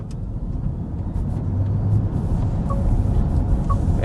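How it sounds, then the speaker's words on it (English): A 2027 Volvo EX60 P10 Ultra all-wheel-drive electric SUV accelerates hard, heard from inside as a steady low road and motor rumble that swells slightly, with no engine note and no voices. "we're going to start with a hard acceleration"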